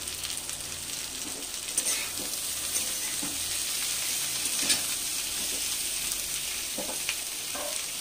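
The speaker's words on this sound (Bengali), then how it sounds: "এবার আমি এর মধ্যে রসুন কুচিটা দিয়ে দিচ্ছি, পেঁয়াজ কাটাও দিয়ে দিচ্ছি।" Chopped garlic and onion sizzling in hot oil for a small-fish curry, a steady bright crackle with occasional stirring scrapes, close and continuous with no talking.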